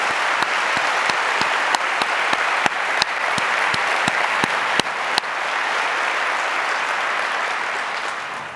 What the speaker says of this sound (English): can we get a round of applause for all of those who support us to attend this?